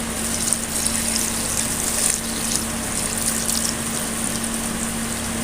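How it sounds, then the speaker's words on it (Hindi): Water is poured from glasses into a large pot of beef korma, a steady loud gushing splash with a constant hum underneath that runs without a break, and no talking over it. "हम इसमें पानी 4 से 5 गिलास पानी डालेंगे इसमें।"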